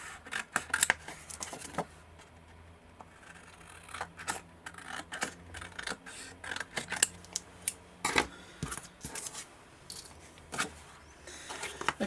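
Scissors snip plastic tabs off a grandfather clock assembly part, giving a series of sharp, close clicks and cuts in irregular bursts with quiet handling between them.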